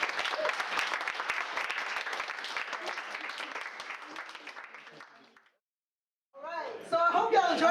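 A live audience at an evening of performance applauds, a sustained wash of clapping that fades to silence, followed by a speaking voice near the end.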